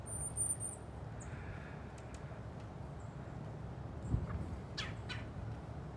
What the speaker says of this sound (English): Let's see the birds come in.